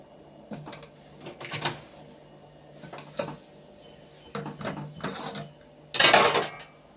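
A lid is set on a cooking pot in a home kitchen, giving a few scattered metallic clanks and clatters, the last one louder, with quiet gaps between.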